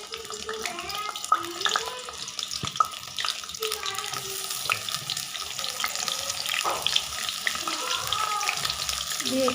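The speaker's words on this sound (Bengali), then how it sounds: "এবার নুন হলুদ মাখানো পটলগুলো আমি তেলের মধ্যে" Pointed gourd pieces coated in salt and turmeric sizzle as they drop into hot oil in a kadai, a watery crackling hiss running throughout beneath a voice talking.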